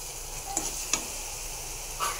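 Egg curry being stir-fried in a pan with its liquid cooked down, giving a soft steady sizzle broken by a few light scrapes and taps of the spatula.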